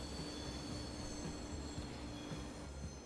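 Train running in the video game Transport Fever 2, a continuous rumble of rolling wheels with faint rhythmic clacks and a high squealing whine, steady and moderately distant.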